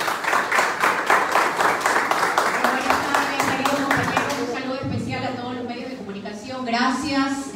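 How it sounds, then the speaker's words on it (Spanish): Audience applause at a political press conference, a dense burst of clapping from a crowd filling the first few seconds and then thinning out as a voice speaks over it. "El aplauso,"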